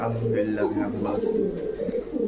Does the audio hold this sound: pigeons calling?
yes